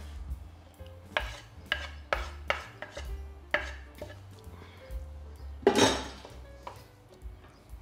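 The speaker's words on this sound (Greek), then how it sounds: "Ανακατεύω." A spoon scrapes and knocks against a pot while smoked eggplant purée is stirred, giving a run of close, uneven scraping strokes with one louder, longer scrape partway through.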